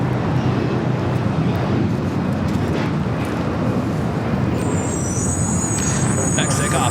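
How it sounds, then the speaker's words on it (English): An Alaska Airlines Boeing 737-800 on its takeoff run at Los Angeles airport, a loud, continuous low roar of jet engines, with people talking over it and a higher whine rising near the end. "Next takeoff is Alaska Airlines in the Salmon People livery. Heading to Newark. It's a 737-800."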